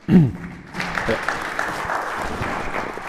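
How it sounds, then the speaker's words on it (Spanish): Audience applause at a panel session on municipal experiences with economic development, a broad steady clapping that swells in after a short voice at the start and carries on to the end. "les damos un aplauso a ambos, por favor"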